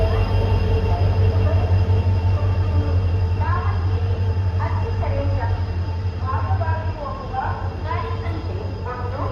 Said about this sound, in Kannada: ನಮ್ಮ ಯಶವಂತಪುರ ಎಕ್ಸ್ಪ್ರೆಸ್ ಬಂದೇ ಬಿಡ್ತು.